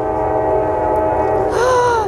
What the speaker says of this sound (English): We caught the choo-choo train. It's coming.